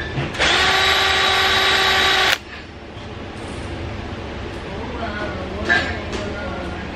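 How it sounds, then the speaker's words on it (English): A power drill whirs steadily for about two seconds while boring holes for a hitch-mounted accessory on a lifted truck, loud and close, then cuts off, leaving quieter background sounds. "One, drill the holes."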